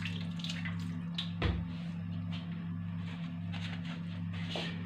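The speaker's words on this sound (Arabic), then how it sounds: "نغسل يدي بماء فاتر" Lukewarm tap water runs steadily as hands are washed under it, a continuous soft splashing stream over a low steady hum, fairly quiet and close with no talking.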